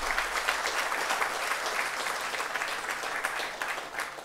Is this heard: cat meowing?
no